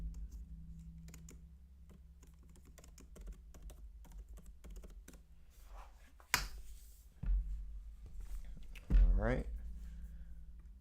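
Keys are tapped quietly on an M3 Pro 14-inch MacBook Pro keyboard while entering a password, a sparse run of faint clicks with a couple of brief louder noises.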